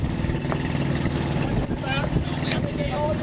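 Strong wind buffets the microphone while a boat sails on Sydney Harbour in about 25 knots of breeze, a constant roaring rush over engine-like drone and water noise, with people talking.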